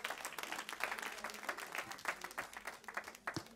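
A church congregation applauds steadily, a dense patter of many hands clapping at moderate loudness for a few seconds, with a voice faintly audible.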